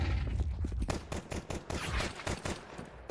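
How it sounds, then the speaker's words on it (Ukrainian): Rapid gunfire from Counter-Strike 2 during a professional esports match, with dense bursts of automatic shots cracking continuously and loudly throughout. "пішла стрілянина"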